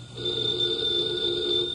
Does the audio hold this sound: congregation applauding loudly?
no